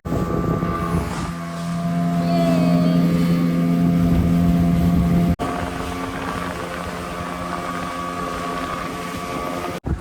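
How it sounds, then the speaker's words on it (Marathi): A motorboat engine drones loud and close on the water off Alibag beach, heading to a parasailing boat. The steady humming note shifts slightly in pitch, with no voices. "आता दुसऱ्या बोटीमध्ये जाणार आहे. त्यानंतर तिकडून पॅरासेलिंग करणार आहे."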